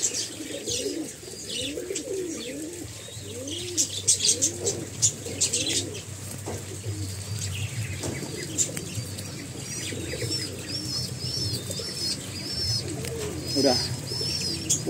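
Repeated soft pigeon coos from pass-net pigeons roll through the clip in a steady rhythm, with light chirps and a constant low background hum.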